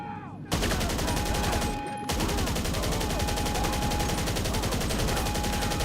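Gunfire in GTA 5 Online as a magazine is emptied: a dense, loud, unbroken stream of rapid shots with one brief dip before the firing resumes at full pace.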